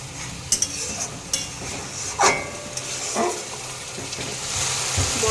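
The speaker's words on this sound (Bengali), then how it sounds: "এবার আমি মশলাটা ভালো করে কষিয়ে নেব।" Spice masala with turmeric and Kashmiri chilli powder is fried in oil for Kolkata-style ghugni. Close, sharp scrapes and stirs in the pan sound over a continuous low sizzle.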